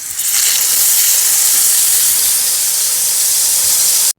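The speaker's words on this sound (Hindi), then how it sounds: "तवे के ऊपर जैसे ही बैंगन किया तो मैं कह दिया क्या छड़ छड़ छड़ा की इतनी आवाज़ें आई" Marinated aubergine hits a hot tawa griddle with a loud, continuous sizzle and steamy hiss that holds steady throughout, with no talking.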